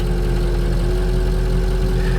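A bus engine idles steadily with a low rumble and a constant hum, loud and close, with no starting crank audible and no talking.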